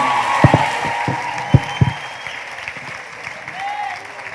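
A handful of scattered hand claps ring out irregularly over a low murmur of a church congregation, tapering into quiet background noise.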